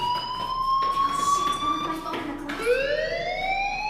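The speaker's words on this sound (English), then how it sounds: "do you hear that fire alarm?" Electronic fire alarm in the Life is Strange video game, a steady high tone that shifts pitch partway through, loud and continuous, with a voice speaking over it.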